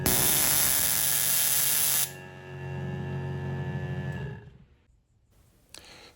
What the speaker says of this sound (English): Today we're going to be using our Tesla coil to create high voltage alternating current